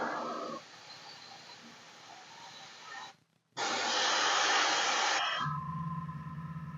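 A hair dryer blows hard on matte varnish freshly applied to a painted T'au miniature, a steady loud hiss that cuts out briefly and then resumes stronger before its pitch drops.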